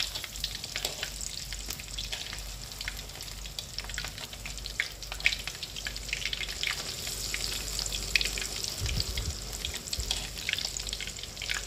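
Battered crispy egg-filled tofu frying in hot oil, four pieces at a time, a continuous close, dense sizzle and crackle with occasional stirring, no talking.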